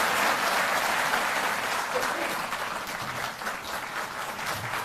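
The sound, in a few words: audience applause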